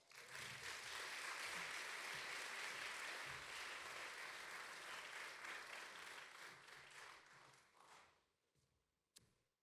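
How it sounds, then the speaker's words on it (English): A large audience applauds for Dan Proft at a Constitution Day event, a dense, sustained wash of clapping that holds steady for about eight seconds before thinning out and fading. "would you please give a big round of applause to Dan Proft"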